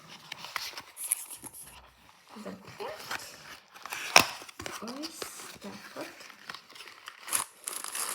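Plastic packaging crinkles and tears as a grass-shaped soap dish, slightly damp from rain, is unwrapped with scissors, giving close, irregular rustling bursts and a few sharp snips, with soft breathy voice sounds mixed in.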